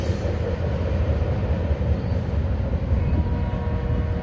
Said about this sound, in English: Yep, that's the yard switch train.